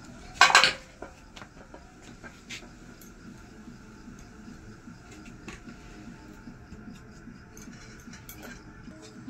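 A cooking pot lifted off a stove with a sharp metallic clank at the start, followed by faint scraping and clinking of cookware over a low background hum.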